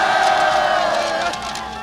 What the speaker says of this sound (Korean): 감사의 함성을 보내주시기 바랍니다